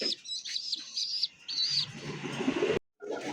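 Pigeon squabs in a loft of Iranian high-flyer pigeons cheep in thin, repeated high chirps close by, alone, with a brief cut to silence near the end.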